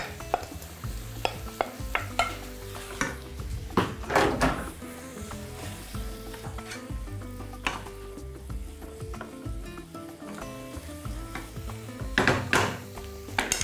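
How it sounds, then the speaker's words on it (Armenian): Marinated, softened cabbage tipped into a pot of borscht and stirred, giving repeated scraping and clinking of a spoon against the pot with soft sloshing and a few louder bursts, close by and without talk. "Այս պահին ավելացնում ենք կաղամբը, որը նախապես մշակել ենք, թողել ենք մարինացվի, փափկի"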